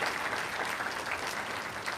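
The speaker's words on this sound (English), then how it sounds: "So can we give them a round of applause?" An audience at a health careers summer internship closing ceremony applauds the preceptors, a dense, steady burst of clapping across the whole moment.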